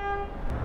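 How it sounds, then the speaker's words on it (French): A short vehicle horn toot, steady and clear for about a third of a second, then fades into the low rumble of road noise. "Klaxon!"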